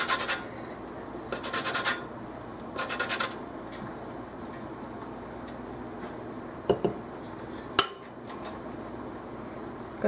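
Scraping and rasping of a lemon being zested down to the white pith, with a few short bright grating bursts and light clinks over a steady kitchen background hum.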